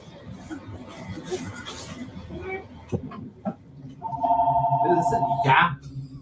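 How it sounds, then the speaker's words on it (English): A telephone rings with a bright, repeating electronic trill that starts partway through and sounds loud and near, following scattered knocks and low voices in a clinic office. "And then the freaking phone rings."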